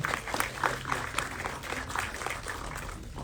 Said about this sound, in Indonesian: tepuk tangan dong buat Prilly teman-teman